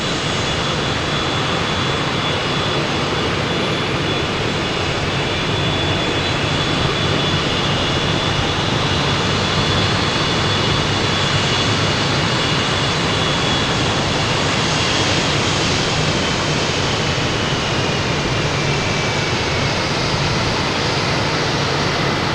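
A Delta Embraer E175 jet arriving from JFK at Boston Logan rumbles as a loud, dense, steady roar of engine noise with a faint high whine running through it, continuous and without voices.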